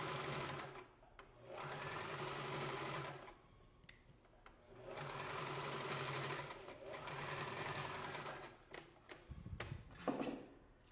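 Sewing machine topstitching the lapel of a fur jacket, running in three long steady bursts separated by brief pauses, close and clear with a few handling knocks near the end.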